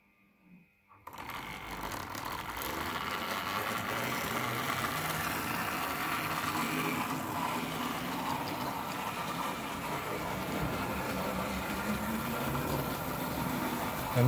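A Triang Hornby R357 Brush Type 2 model locomotive starts up after a brief quiet moment and runs continuously on Super 4 track, giving a steady whirring, buzzing motor hum with faint rattling, close and uninterrupted.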